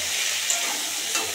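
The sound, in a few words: spice masala being sautéed in a pan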